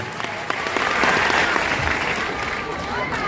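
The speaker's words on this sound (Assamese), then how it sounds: "সকলোকে এটা হাত চাপৰি দিবৰ বাবে অনুৰোধ জনাইছোঁ।" Audience applause fills the space at a Republic Day celebration on 26 January 2025, steady and fairly close throughout, with a voice speaking faintly beneath the clapping.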